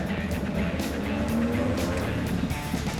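A 4WD vehicle drives forward in wet, rainy conditions while being winched, its engine a steady moderate rumble with patchy noise bursts over the top.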